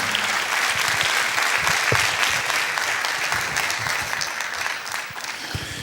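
Congregation applause inside a church during a sermon, a full, sustained round of clapping from many people that gradually tapers off toward the end.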